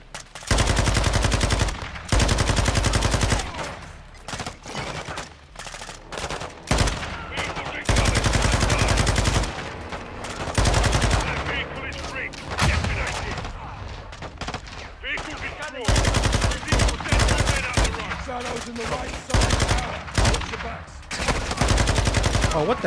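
Heavy gunfire in the video game Call of Duty Modern Warfare 2 during a prison break mission: loud, repeated bursts of automatic rifle and machine-gun fire alternate with quieter stretches of battle noise, and voices shout under the shooting.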